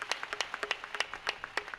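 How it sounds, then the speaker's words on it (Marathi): A small audience at a devotional gathering claps in quick, uneven bursts for the Sakri taluka group, the individual hand claps sharp and close but fairly light overall. "अशा या मंडळीसाठी एकदा जोरदार टाळ्या वाजा साक्री तालुक्यासाठी"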